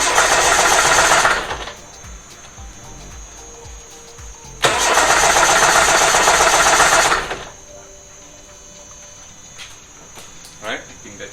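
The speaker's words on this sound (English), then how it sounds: "Now we're going to crank the engine." An engine being cranked in a loud burst of starter whirring, pausing, then cranking again for a few seconds before going quiet, with faint background noise afterward.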